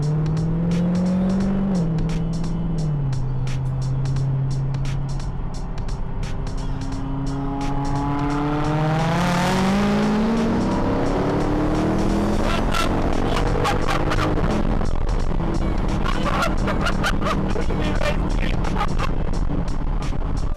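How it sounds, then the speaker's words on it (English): Steady road and engine noise from a car driving at night while following a McLaren 570S, with a rising and falling engine tone, continuous and fairly loud throughout. "This is me driving down the road one night following a McLaren 570S"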